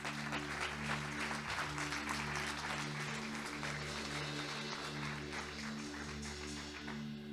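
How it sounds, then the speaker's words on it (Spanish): Church congregation clapping in praise, a steady wash of applause over a low sustained hum, fairly quiet and continuing throughout with no talking. "Den un aplauso al Señor."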